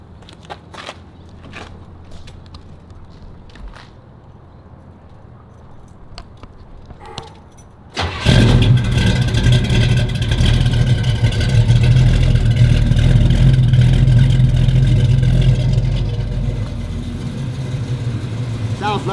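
A 1969 Camaro with headers cranks and fires up about halfway through, then settles into a loud, steady, rumbling idle with some revving. Before it, there are quiet clicks and jingling keys in the cabin.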